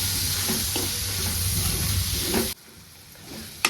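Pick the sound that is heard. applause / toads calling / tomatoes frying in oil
tomatoes frying in oil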